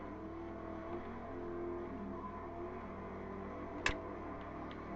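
A McLaren's engine in the Forza racing game drones steadily under acceleration, its layered tonal hum holding even throughout, with one sharp click near the end.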